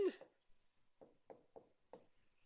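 A chemistry formula is written on a board in short, dry scratching strokes, several quick marks separated by pauses, quiet and close, with a voice heard briefly at the start.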